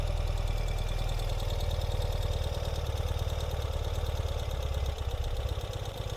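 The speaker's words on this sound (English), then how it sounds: "See, the bike is moving back." A 2021 Ural motorcycle idles steadily while backing up in reverse gear, its low, even engine rumble close and continuous for the whole stretch.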